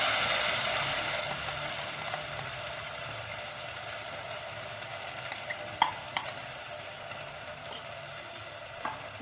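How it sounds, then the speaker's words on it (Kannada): A jowar flour mixture with ginger and green chilli paste is stirred in a pan over a low flame. A soft sizzle fades gradually beneath the scraping, with a few sharp spoon clicks against the pan. "ಇದನ್ನು ಒಂದ್ಸಲ ಮಿಕ್ಸ್ ಮಾಡ್ಕೊಳ್ತೀನಿ"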